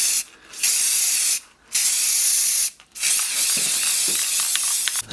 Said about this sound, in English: The layer of texture paint is covered over by a copper colour spray.